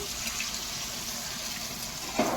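Water streams steadily into a pot of mango and tamarind sour dish, a continuous hissy splashing pour at moderate level that swells briefly near the end.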